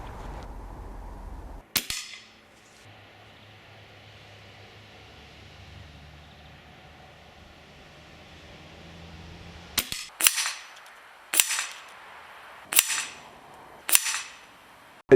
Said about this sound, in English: So let's put a few pellets through the Hammerli 800 and see how I get on.